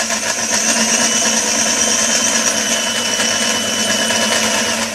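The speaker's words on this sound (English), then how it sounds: "just let the drill bit eat and do its job instead of trying to force it through" A drill bit bores steadily through a carbon exhaust slip-on muffler from a first-generation R1, a continuous high whirring grind held at even loudness with no talking.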